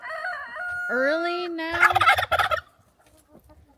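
Backyard chickens call nearby, a rising squawking, gobbling burst followed by a few choppy clucks, then quieter distant clucking as a voice briefly speaks.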